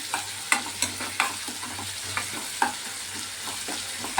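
Ginger-garlic paste sizzles softly in a pan while a spoon stirs it, with sharp scraping clicks against the metal at irregular intervals, close by.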